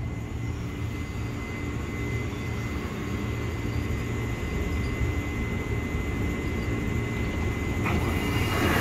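KRL commuter electric train arriving at Jayakarta station platform, a continuous rumbling roar with steady hum and a faint high whine, moderately loud and sustained throughout.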